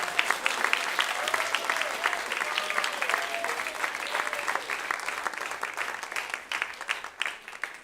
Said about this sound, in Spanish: démosles un fuerte aplauso al Señor por esta victoria de todos esos jóvenes